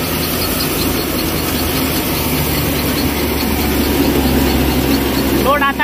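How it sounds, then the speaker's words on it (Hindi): A Kubota 5501 55 HP tractor engine runs with a loud, steady, rumbling drone that holds without a break from start to finish, close to the listener. "55 HP कैटेगरी का ट्रैक्टर है भाइयों।"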